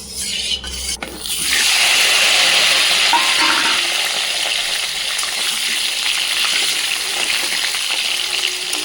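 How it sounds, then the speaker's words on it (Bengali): Potatoes drop into hot white oil in a pan and fry with a loud, dense, continuous sizzle after a brief clatter at the start. "আলুটা ভেজে নেওয়ার জন্য এখানে আমি গরম করার মধ্যে সাদা তেল দিয়ে দিলাম এটা গরম হয়ে গিয়েছে"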